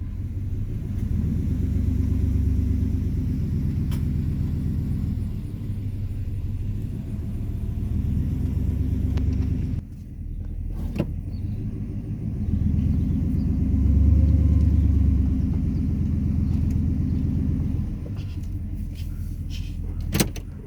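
A pickup truck towing another truck by a chain, with a 1996 6.5L diesel truck in transmission repair; a steady, loud low engine rumble runs throughout, with a brief dip near the middle and a few metallic clanks.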